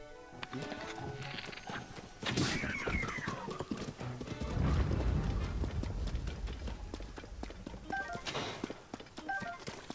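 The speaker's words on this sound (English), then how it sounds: "I'm taking your horse" Horse hooves clip-clop across the ground in Zelda: Tears of the Kingdom, a rhythmic run of fairly close thuds with a whinny in the middle, over game music and effects.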